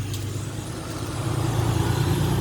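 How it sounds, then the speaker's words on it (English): Heavy trucks pass close by on a road, a loud, steady low engine rumble that swells slightly toward the end, with no talk over it. "Sorry, loud trucks."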